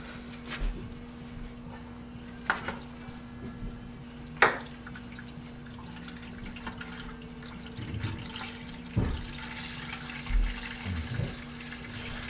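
Beer for an all-grain Irish red ale flowing gently into a bottling bucket, a soft continuous trickle with occasional drips and splashes, faint and steady with a low hum beneath and no talking.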